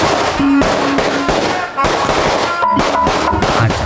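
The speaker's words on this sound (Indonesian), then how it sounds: "Acara dimulai dengan menyalakan petasan." Firecrackers crackle in fast, dense bursts at a circumcision celebration in Indonesia, loud and close, a string of sharp pops running almost without pause throughout.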